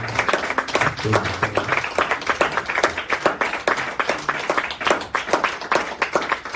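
A church congregation claps together in rapid, rhythmic applause, steady and lively throughout, with voices calling out over the clapping.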